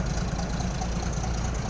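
A 1974 Toyota Land Cruiser FJ40 with a carbureted 3.9 liter engine idles smoothly and close by, giving a steady low rumble with no talking.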